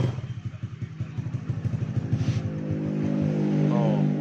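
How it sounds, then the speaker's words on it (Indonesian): A Honda Beat FI motorcycle engine, recently fixed after stalling and losing ignition, sputters unevenly at first and then settles into a steady, close idle. "Oh, ini motor udah hidup,"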